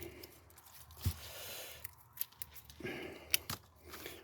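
Scissors or secateurs snipping plant stems to take cuttings, a few quiet, sharp, isolated clicks and snips spaced irregularly against a faint, soft background of handling.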